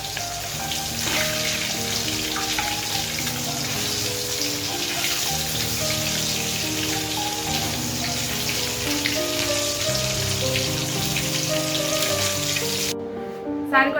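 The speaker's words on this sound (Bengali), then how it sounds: "এখন আমরা খাবো বলে আগের থেকে গরম গরম ভাজা করে দিচ্ছি" Hilsa fish frying in hot oil in a pan, a steady, loud, dense crackling sizzle that continues throughout with no talking.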